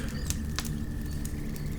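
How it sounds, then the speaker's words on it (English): Rats scratch and scrabble above a flimsy ceiling tile, a dense, continuous patter of tiny claws with a few sharper skitters over a low steady hum. "The scrabbling, scratching sound was incredibly loud now."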